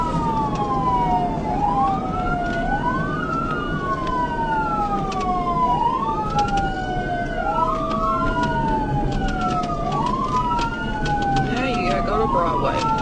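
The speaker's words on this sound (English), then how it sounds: "Trooper Cass activated the siren fully and initiated a pursuit." A loud police siren wails during a high-speed pursuit, sweeping up and down in repeated cycles over steady road noise, close by and continuous.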